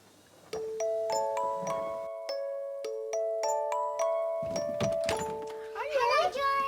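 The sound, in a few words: doorbell ringing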